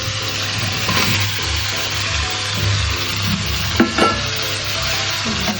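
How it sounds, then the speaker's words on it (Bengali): Hilsa pieces go into hot mustard oil with turmeric and red chilli powder, giving a loud, continuous sizzle with stirring scrapes and a few sharp spatters, and no talking. "এখন তো এটা ভাজা কষা হয়ে গেল, এখন আমরা এখানে মাছগুলো দিয়ে দেব।"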